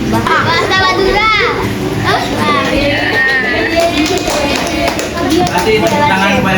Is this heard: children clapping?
yes